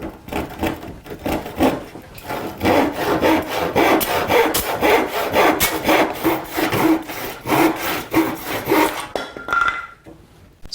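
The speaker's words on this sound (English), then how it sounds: "You want to have almost like a finish saw so that you don't cut, you don't splinter the wood as you cut it." A fine-toothed hand finish saw cuts through wood for a trestle table in steady back-and-forth strokes, each a rasping, close-up rub that repeats rhythmically for about ten seconds before stopping.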